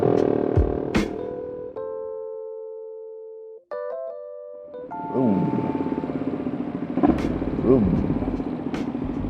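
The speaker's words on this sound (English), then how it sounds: "Don't be that guy in a tunnel revving your motorbike." A Suzuki GS500 scrambler motorcycle idles in a tunnel, then revs loudly in bursts with a roaring, echoing tone that rises and falls, close by.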